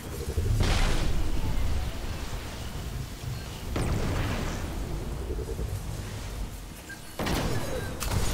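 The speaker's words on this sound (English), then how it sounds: "I never realized that the explosion of shooting them hurts you" Explosions from shooting enemies in the video game Destiny, three loud broadband bursts with rumbling tails at roughly half-second, four-second and seven-second marks over steady game noise.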